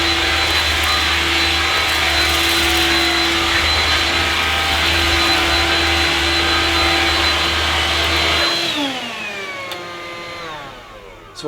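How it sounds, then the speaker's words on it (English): Bosch BBH62860 cordless stick vacuum cleaner running with a steady loud motor whine and airflow roar, then powering down with a falling pitch near the end. "I'll just show you how easy the vacuum is to use."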